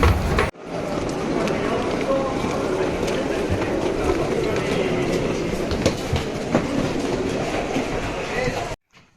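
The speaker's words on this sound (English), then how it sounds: "This is the last train to Puzzoli," Ride aboard a train to Pozzuoli near Naples, a loud continuous rumble with clattering wheel noise and rattles throughout, heard from inside the carriage.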